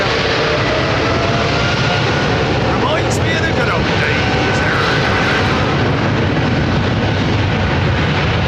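Middle East Airlines A330 jet at London Heathrow, a loud continuous broadband engine roar filling the whole span, with faint tonal whine layered over it and people talking underneath.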